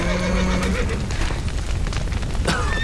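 Horses neigh and whinny in a burning stable in The Witcher 3, several loud shrill calls rising over a dense rumble of fire and collapsing timber, with a sharp cry near the end.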